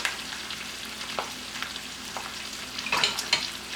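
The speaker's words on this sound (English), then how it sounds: "just stir it in the hot butter" Kale stirred in hot butter in a pan gives a steady crackling sizzle, broken by a few scraping strokes of the stirring utensil and a brief louder burst of spatter near the end.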